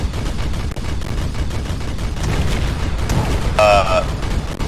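Heavy weapon fire from a stealth tank in an Arma Command and Conquer mod battle booms over continuous rumbling combat, with a sharp crack early and a dense burst near the end.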